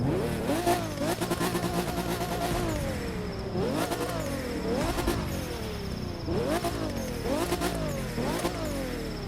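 The Gold Leader Z car's engine in the racing game The Crew 2 revs repeatedly, rising and falling in pitch with several sharp throttle blips and gear-change dips, loud and close, alone without talk.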